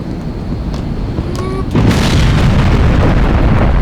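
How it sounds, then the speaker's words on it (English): Bombs go off in the Half-Life remake Black Mesa, a sudden loud blast that swells into a sustained, roaring rumble of explosions after a quieter stretch of ambient game noise. "Bombs."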